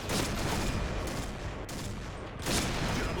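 Loud, rapid gunfire fills an online shooter game, Point Blank, with dense bursts of shots fired almost without a break and a brief lull before the firing resumes.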